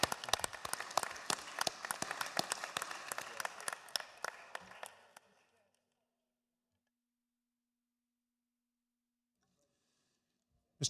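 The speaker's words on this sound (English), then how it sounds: "Let's all give her a big round of applause and a warm welcome as Representative Brewer." Applause in a State House chamber during a legislative session welcoming a guest: sharp, individually audible claps from many legislators, loud at first, then thinning and fading out into silence about halfway through.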